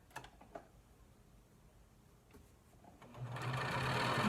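A sewing machine stitching a fabric face mask, first a few faint mechanical ticks and clicks, then the motor starting up near the end into a steady, louder whirring run.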